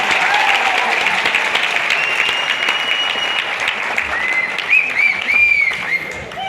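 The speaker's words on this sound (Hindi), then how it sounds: "तो सर के लिए जोरदार ताली होनी चाहिए" A large audience at a live motivational talk in Jaipur breaks into loud, sustained applause, a steady dense roar of clapping with scattered whistles and cheers rising near the end.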